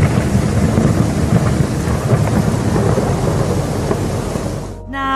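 Loud, continuous rumbling thunder over heavy rain from a lightning storm above the New World Trade Center, a dense roar that cuts off abruptly near the end.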